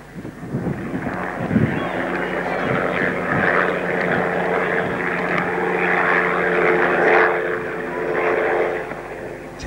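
A model aircraft engine at a jet rally, droning much like a Cessna, holds a steady mid-distance propeller buzz throughout, with brief swells in loudness.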